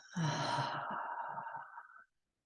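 A single long, audible exhale during a guided breathing exercise, a breathy sigh-like outflow that lasts about two seconds and then stops, close and quiet.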